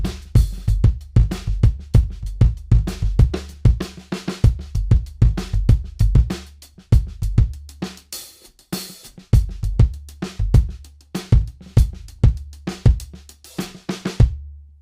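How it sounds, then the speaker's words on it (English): Kick drum damped with a Sonitus Kicker muffler, the beater digging into the head: short, punchy, deadened thumps in a steady groove with other drum hits, loud and close, no talking. "This is with the beater digging into the head."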